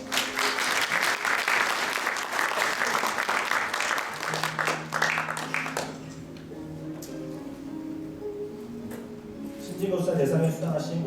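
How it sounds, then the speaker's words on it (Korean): An audience applauds award winners and an association chairman at an architecture awards ceremony, loud, steady clapping for about six seconds that fades and then swells again near the end, with a voice speaking in between. "수고해주신 회장님과 수상자님께 큰 박수 주시기 바랍니다."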